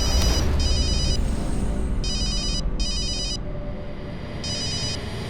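A telephone rings in repeated electronic bursts, several short trills separated by pauses, loud and close over a low background rumble.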